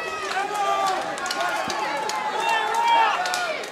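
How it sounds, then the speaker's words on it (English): Rowdy crowd at a Mansfield Tavern women's MMA bout, a steady loud roar of shouting and cheering voices with whistles, close and continuous throughout. "I'm sure you can hear the crowd in our mics, guys."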